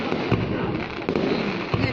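Fireworks burst over a town celebration in Chợ Rã, Bắc Kạn, Vietnam, a dense continuous crackle and rumble with repeated heavier booms every second or so, loud and close, with faint voices in the crowd.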